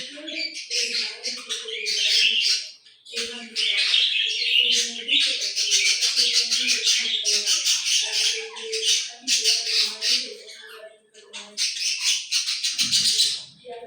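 Pet birds, likely parrots, squawk and chirp almost continuously in a noisy indoor chorus, with shrill bursts layered over lower calls and only brief pauses.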